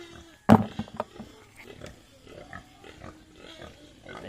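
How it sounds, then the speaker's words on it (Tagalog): Pigs eating cooked yellow and white cassava, with grunting and snuffling noises and a loud burst near the start, then quieter, irregular feeding sounds close by. "ito ipapakain na natin sa mga baboy"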